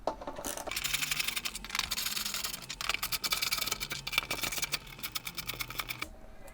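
Screws being undone with a Torx T25 driver on a BMW F 900 GS motorcycle, rapid close metallic ratcheting clicks in dense bursts, pausing and resuming.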